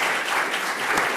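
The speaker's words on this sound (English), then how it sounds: "can we please give one more round of applause to our Board of Managers" An audience at a board meeting claps for the Board of Managers, a short, dense burst of applause.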